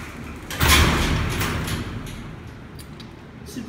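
Heavy doors of a 1960 Dover hydraulic freight elevator at a mall loading dock slide shut with a loud rumbling thud, then a long fading mechanical rumble, close and with no talk.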